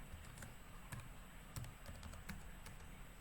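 Fingers tap at a computer keyboard, entering an ssh command, a quiet close run of irregular clicks with a few sharper key strikes over faint background hiss.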